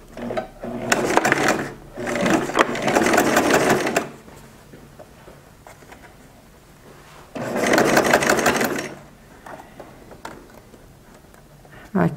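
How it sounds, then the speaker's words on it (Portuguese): Sewing machine stitching bias binding onto fabric edge, two bursts of fast rhythmic whirring stitching close by, separated by a quiet pause with small handling clicks. "Colocar o viés no limite do tecido e vou passar um pezinho de máquina."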